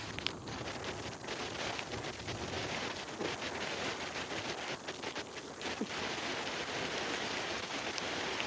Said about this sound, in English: Waiting the storm out. Pulled off under some trees.